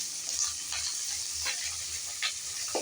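Tomatoes fry in a pan for a tomato and pepper greens chutney, giving a steady close sizzle broken by a few scraping stir strokes, with no voices.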